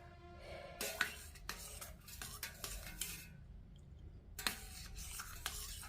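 A spoon stirs panakam, a sweet jaggery drink, in a metal vessel, giving sharp scattered clinks and scraping taps against the sides. The clinks come in irregular bursts over a quiet background.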